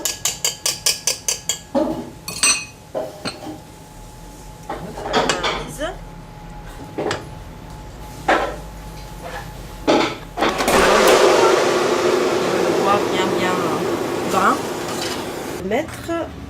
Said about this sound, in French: Moi j'utilise le fouet et très doucement je mélange.